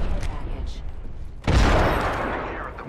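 A thrown frag grenade goes off in a video game with one sudden loud blast that rumbles and fades over about a second, following quieter game sounds and voices.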